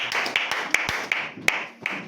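Congregation in a church clapping in a steady rhythm, with sharp claps roughly every third of a second over a continuous background of voices and room noise.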